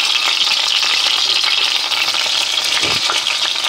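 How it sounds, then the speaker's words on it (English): A top round roast sears in a hot pan with a steady, loud, continuous sizzle and crackle, alone without any talk. "we're going to try to brown off all the sides without that temperature going up quickly"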